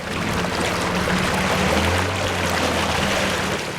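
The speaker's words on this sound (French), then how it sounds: "Le moteur vrombit." A motorized wooden boat on the water on the way to Ganvié, its engine droning steadily with a low hum beneath a constant rush of water and spray, close and loud throughout.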